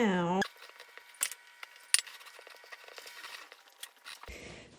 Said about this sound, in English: So you just want to stir in all this flour until you get a nice soft dough.